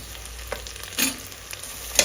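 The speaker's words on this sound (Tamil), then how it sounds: "தக்காளி கொஞ்சம் நல்லா வதங்கட்டும்." Tomatoes fry in a pan for bisi bele bath, a soft steady sizzle marked by a few sharp clicks and scrapes of a stirring spoon, close up and without speech.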